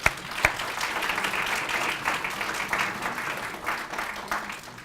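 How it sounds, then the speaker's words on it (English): Steady, dense applause from an audience at a youth award ceremony, many hands clapping continuously at an even level throughout, with a sharp knock near the start. "give yourselves a round of applause"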